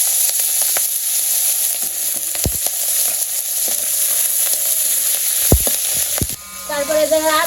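Bay leaf, cumin and ground spices sizzle in hot oil for a village fish curry, a steady close crackling hiss with a few sharp clinks. It ends in a brief stretch of quieter, tonal sound.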